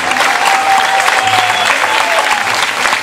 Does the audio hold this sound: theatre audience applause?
yes